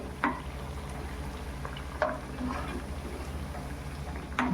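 Vadas made from bhagar flour, coated with sesame seeds, deep-frying in oil with a soft, steady bubbling sizzle, broken by a few sharp clinks and stirring clatters.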